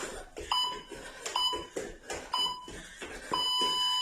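Short electronic beeps from a HIIT workout timer repeat about once a second, sharp and clear, with thumping movement sounds between them and a longer beep at the end.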